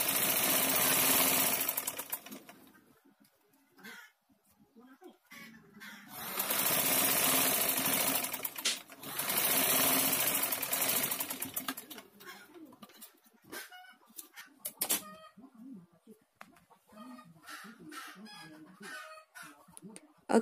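A sewing machine stitches dress fabric in loud, close bursts of fast mechanical whirring, with pauses between runs; chickens cluck faintly in the background and a voice talks in the quieter gaps.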